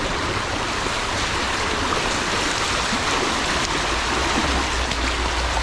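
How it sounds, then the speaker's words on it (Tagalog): A flowing stream with a strong current gives a loud, dense, continuous rush of water that stays even from start to finish, with no voices. "Ganda na agos."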